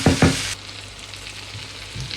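Koi fish and onions frying in a pan, a steady soft sizzle after two brief loud knocks or clatters at the start, close and continuous with no talking.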